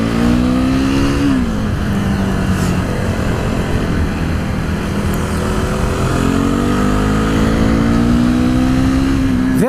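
A KTM Duke 390 motorcycle being ridden and accelerating on the road, its loud single-cylinder engine note rising and falling through the gears, heard close from the rider's position with constant wind rush.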